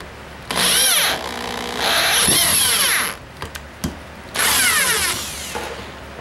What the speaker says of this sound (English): so I can just drill it right into here.